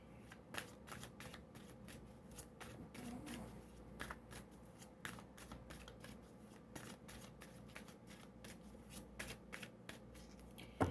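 A deck of tarot cards is shuffled by hand during a reading: repeated riffling and flicking bursts in an uneven rhythm, close and fairly quiet, with no voices.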